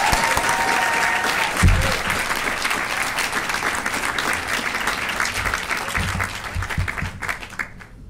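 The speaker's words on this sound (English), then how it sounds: "So I think another round of applause for you guys." Graduation ceremony audience applauding steadily and loudly throughout, a dense continuous clapping that tapers off slightly near the end.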